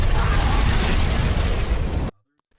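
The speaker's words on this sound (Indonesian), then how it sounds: "Seseorang yang masuk gudang senjata langsung kena ledakan." A loud, close blast in a weapons armory from a John Wick action film, a dense roaring burst with crackling debris that holds for about two seconds and then cuts abruptly to silence.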